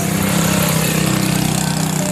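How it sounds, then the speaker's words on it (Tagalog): Motorcycles on a busy street in Town Palong give a steady, close engine drone with a low mechanical hum throughout, and no voices over it. "Ang daming mga motor."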